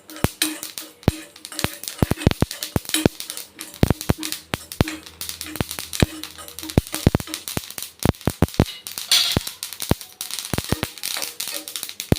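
Seeds pop and crackle in a hot iron pan off the heat, sharp irregular snaps scattered densely over a soft background sizzle, some close and loud, others fainter.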